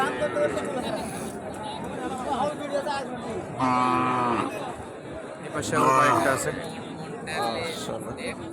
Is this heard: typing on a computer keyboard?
no